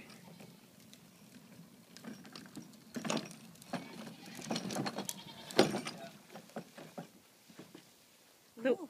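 Goats bleat on and off at a moderate distance, mixed with rustling and scattered outdoor noise, with no clear talking.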